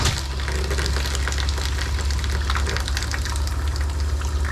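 Water gushes steadily from a camper faucet as RV antifreeze is pumped through the lines, a loud continuous broadband rush with a low pump hum beneath it and no talking.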